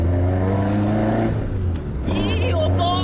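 Toyota AE86 belonging to the Drift King pulls away at about 3000 rpm, a loud, close, steady engine drone with a rising harmonic pitch and a brief dip before it climbs again.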